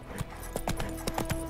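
Hooves of Geralt's horse Roach from the video game The Witcher 3 pound out a quick, irregular gallop, a short burst of clip-clop beats close up and clear with no voices.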